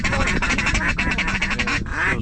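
Rapid series of nasal duck calls from waterfowl hunters working a big flock over a loaded field in rainy western Washington, close and loud, a quick run of quacks followed by a brief pause and another burst.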